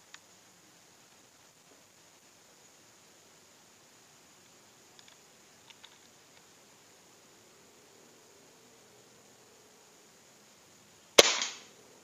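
A long stretch of near silence with a few faint clicks, then a single sharp, snappy air rifle shot through a Neo Gorilla suppressor close by near the end, about 105.4 decibels.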